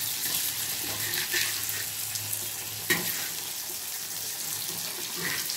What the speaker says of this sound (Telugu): ఈ చేపలు కూడా ఫ్రై అయిపోతున్నాయి